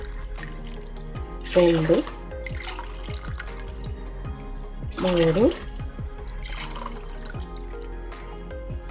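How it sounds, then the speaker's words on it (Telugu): Water is poured from a glass into a bowl of rice and moong dal set to soak for katte pongali. Two short splashing pours come a few seconds apart while a person talks and counts over the kitchen sounds. "ఈ గ్లాస్తో 1 గ్లాస్ బియ్యం అయితే 4 గ్లాసులు నీళ్లు పోసుకోవాలి"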